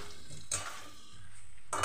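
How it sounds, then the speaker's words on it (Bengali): Fried potato and taro pieces being stirred into spices in a pan, a low steady sizzle with two brief bursts of scraping utensil noise against the metal. "ভেজে রাখা আলু আর কচুর টুকরোগুলো দিয়ে মশলার সঙ্গে ভালো করে মিশিয়ে নিচ্ছি"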